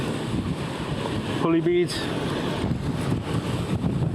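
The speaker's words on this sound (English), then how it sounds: "It's quite choppy, windy" Steady wind noise and choppy sea water wash over the whole clip on a breakwater, with a voice speaking briefly in the middle.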